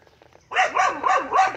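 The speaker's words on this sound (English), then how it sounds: "Whoa! Dogs, man." Several dogs bark in a quick run of four or five loud, close barks, starting abruptly after a moment of quiet.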